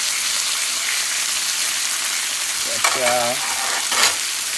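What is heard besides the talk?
chicken sizzling on a grill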